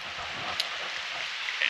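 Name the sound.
heavy rain on a torrential wet day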